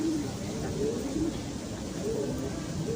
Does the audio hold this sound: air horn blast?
no